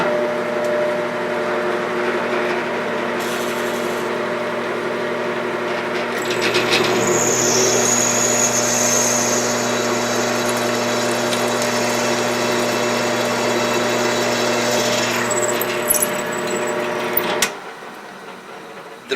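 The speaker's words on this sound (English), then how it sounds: "Cutting, drilling, and milling of steel, chrome nickel alloys, and as you will see here, stainless steel, generates a tremendous amount of heat." Machine tapping of stainless steel lubricated with synthetic oil, a steady droning hum with a shrill whine entering midway and holding for several seconds, then cutting off abruptly near the end.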